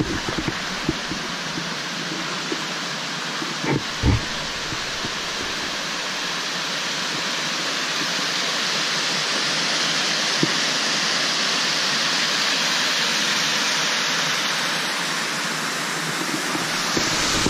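A small cascading waterfall on a woodland hike fills the air with a steady, broadband rush of falling water, constant and fairly close, with no talking over it.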